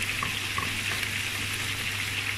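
Garlic cloves frying with browned onion in a pan give a steady, dense sizzle with faint crackles and occasional stirring scrapes, close and continuous throughout.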